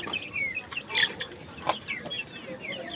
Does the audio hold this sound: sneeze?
no